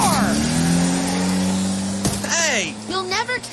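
In the video game Obscure 2, a stolen car roars and revs as it drives off with tires squealing, the engine tone held then dropping, followed by shouting voices over the fading car.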